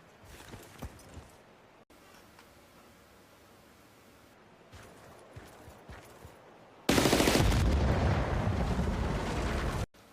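In Battlefield: Bad Company, tanks are blown up: scattered muffled battle pops and rumbles give way to a loud, sustained roaring blast that cuts off abruptly.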